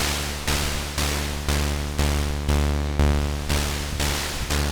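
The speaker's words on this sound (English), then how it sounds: "you can blend in some white noise" A Body Synths Metal Fetishist synthesizer produces broadband noise blended with a droning tone, pulsing in regular half-second swells that fade and restart steadily.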